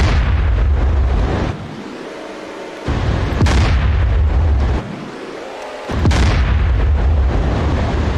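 A 120mm smoothbore main battle tank cannon firing in the combat game DCS World, two loud booming shots with long rumbling tails, very close and dominant, no voices.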